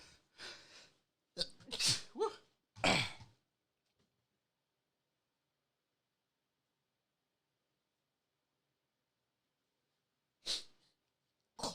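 A close, sharp burst of sneezing, then a long silence, then another quick sneeze near the end.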